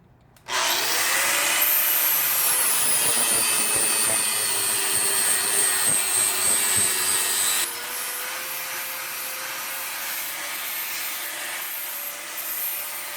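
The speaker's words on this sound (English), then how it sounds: "So I've got an 80 grit flap disc on this grinder, which is actually not good for taking down welds." An angle grinder with an 80 grit flap disc grinds down welds on a budget steel post anvil, starting with a sudden high whine that holds loud and steady, then drops to a lower, lighter grinding tone partway through, with no talking.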